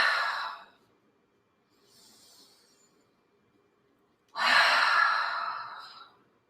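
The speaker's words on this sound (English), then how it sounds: "inhale through the nose, part the lips, and exhale through the mouth" Deep breaths during a beginner yoga practice: a long audible exhale, a faint quiet inhale through the nose, then a loud sighing breath out through parted lips, close and clear.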